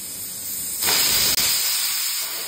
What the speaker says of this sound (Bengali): এবার প্রেসারে দিয়ে দিয়েছি, একটা সিটি দিয়ে নেব